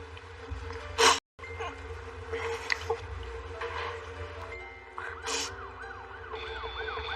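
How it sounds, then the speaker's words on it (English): An ambulance siren wails at a distance, its rising and falling tone cycling over a low engine rumble, with a sharp noisy burst near the start. "The ambulance is coming too."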